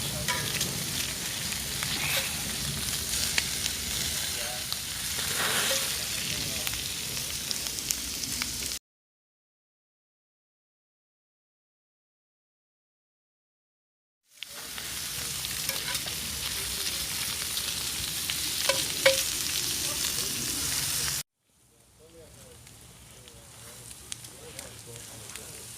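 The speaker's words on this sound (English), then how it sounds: "looks like I'm toasting the heck out of those onions" Onions and bacon fry in a pan over a cowboy grill outdoors, a steady crackling sizzle with occasional stirring scrapes, cut by a silent gap and ending quieter.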